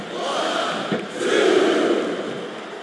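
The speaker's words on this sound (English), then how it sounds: "This capacity crowd is making their opinions known tonight" A capacity wrestling arena crowd in the video game WWE SmackDown vs. Raw 2007 roars and murmurs as a broad, steady wash of noise, swelling louder midway with no clear speech over it.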